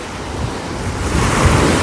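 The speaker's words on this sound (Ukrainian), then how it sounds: "хвилі доходять аж сюди" Sea surf washing up onto a beach shore, a steady roar of breaking waves that swells louder toward the end, mixed with gusty wind buffeting the microphone.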